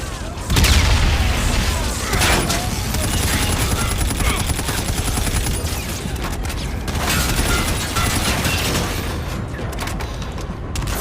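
Gunfire in the Call of Duty: Infinite Warfare shooter, dense sustained automatic bursts and booming shots during a rooftop firefight, loud and close throughout with clattering mechanical effects.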